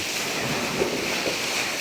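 Rough sea surf surges onto a Thai beach as a broad, constant wash of water noise mixed with wind buffeting the microphone, with no talking.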